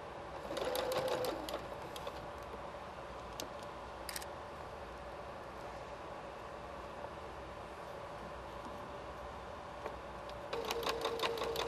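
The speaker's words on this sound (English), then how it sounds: "And I'm back stitching just for fun." A sewing machine stitches a tie onto a canvas bag, a fast steady mechanical whir running throughout, with louder rattling bursts near the start and end as it backstitches.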